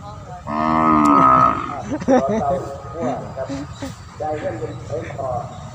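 Cattle mooing at a livestock market in Warin Chamrap, Thailand, one loud, close, drawn-out moo followed by lower lowing and moos, with people talking nearby.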